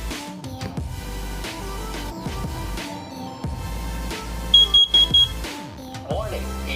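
A First Alert SC9120B smoke and carbon monoxide alarm under test gives a short series of four loud, shrill beeps near the middle, heard under and between talking and a synthetic voice warning.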